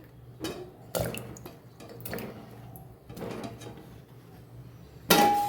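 Bitter gourds dropped into a pressure cooker holding about one and a half glasses of water on a gas stove, making several scattered knocks and splashes, with a louder clatter near the end.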